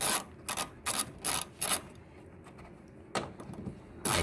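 A ratchet wrench turning a 10 mm headlight screw on a Cadillac SRX: several short, close ratcheting bursts in quick succession, a pause, then a few more clicks at the end.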